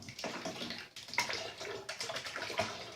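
Liquid pours steadily from a container into a full jar, splashing continuously over about three seconds with a gurgling, uneven flow.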